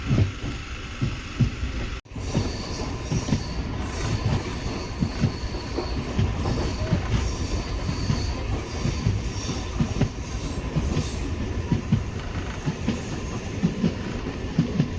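A Tiruvannamalai to Tambaram MEMU commuter train rumbles along the rails with steady rhythmic clatter of wheels and carriage noise, loud and close from inside, broken by a brief dropout near the start.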